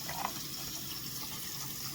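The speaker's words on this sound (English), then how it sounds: "Okay, so the water's going in." Water pours steadily into a bottle wick watering system made for Dollar Tree stackable planters, giving a soft, continuous gush that stays fairly faint throughout, with no talking.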